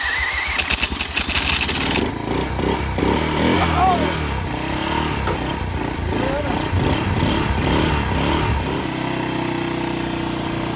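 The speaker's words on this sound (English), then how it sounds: "We're gonna turn it over, give it a little gas, and see what it does." A long-unused Yamaha 225DX Tri-Moto three-wheeler's small engine cranks with a few quick turns, then catches and revs unevenly before dropping to a steady, rough idle, recorded close by.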